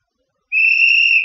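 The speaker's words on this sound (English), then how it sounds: "whistle blown" A single sharp whistle blast, loud and sustained with a bright steady tone, starting abruptly after a moment of silence and holding to the end.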